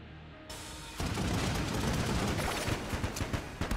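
The Yari launcher in the video game Enter the Gungeon fires a rapid, continuous barrage of loud shots and blasts that bursts in after a brief quiet start and keeps pounding to the end.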